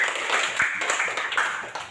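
Classmates in a classroom clap for a fellow student, a brief ragged burst of applause from several pairs of hands, fairly close and lively throughout.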